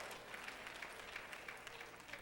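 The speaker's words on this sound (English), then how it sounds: "that's what you call a smattering of applause right there" A small, scattered patter of applause at a church service, fairly faint and steady, with light uneven claps and no voices.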